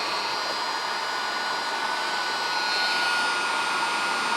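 A heat gun shrinks tubing on starter wiring for a Snapper rear engine tractor, giving off a continuous loud rushing hiss like a hair dryer, steady throughout.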